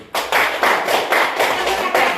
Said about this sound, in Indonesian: untuk penampilan dua kelompok sekali lagi kita beri aplaus